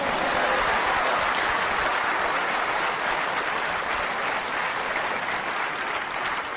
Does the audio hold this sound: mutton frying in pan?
no